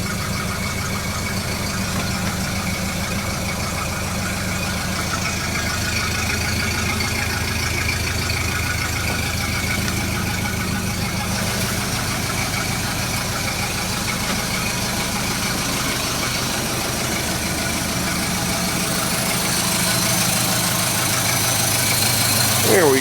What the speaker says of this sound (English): let's go watch his engine run.